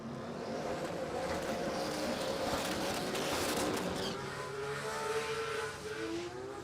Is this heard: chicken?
no